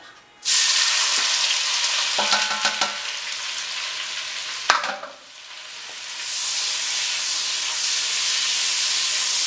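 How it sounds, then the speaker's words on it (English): Onions hit leftover meat fat in a pan for cowboy stew with a loud sudden sizzle that hisses on steadily, broken by a few stirring clinks and a sharp scrape before the frying settles back to a constant hiss. "on this leftover fat from both of those meats, we're going to put a little saute on these onions"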